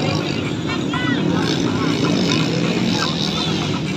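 Underbone motorcycles race at a motocross event in Compostela, engines droning loudly and continuously as the bikes pass, with crowd voices and announcer talk mixed over the noise.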